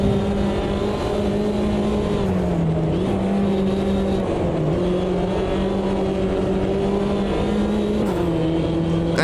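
A Mini JCW race car in the AMS2 sim racing game at Oulton Park drones steadily near and loud, its engine pitch rising and dipping through gear changes and corners, with no talk.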